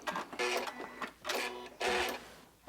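A sewing machine runs in three separate bursts of rapid whirring stitches with short pauses between, free motion quilting swirls into a quilt border, loud and close with no talk.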